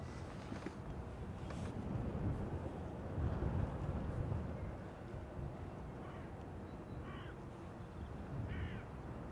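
A crow caws twice in short raspy bursts toward the end, fairly distant, over a low rumbling wind and airport background noise near Dublin Airport.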